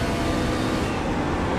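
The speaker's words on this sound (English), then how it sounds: "hear how hard he's running this truck," A truck engine in a Bristol esports truck series racing video game runs hard at full throttle, a loud, steady, unbroken roar with no talk.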